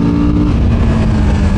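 Loud, close engine of a Kawasaki Z650 RS motorcycle during a sound check, a rough, throaty roar holding steady through a short rev with no talk.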